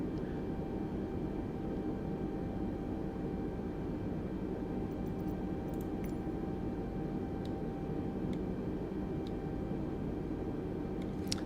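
Engines of an Airbus A320 taxiing at San Francisco in Microsoft Flight Simulator 2020 give a steady, even jet whine and rumble over a broad hiss, heard from inside, with a few faint clicks and no talking.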